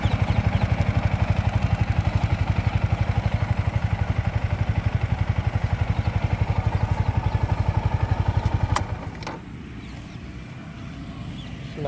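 A Yamaha MT-15 motorcycle engine runs with a fast, even, throbbing pulse for about nine seconds, close and loud, then cuts off and leaves a low, steady background hum.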